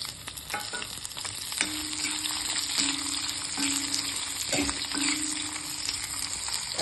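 Seven dried red chilies, two garlic cloves and a large onion frying in a pan for tomato chutney, a constant close sizzle with stirring clatter and a few spatula taps.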